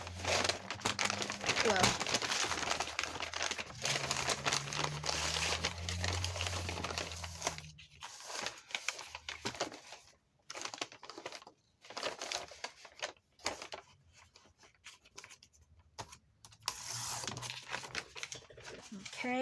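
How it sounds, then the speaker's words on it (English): Uneven journal pages being trimmed, with close crinkling and crisp paper rustles that come in irregular bursts and scrapes, while a person talks quietly underneath. "Oh, but I do need to cut now this, because this part is uneven."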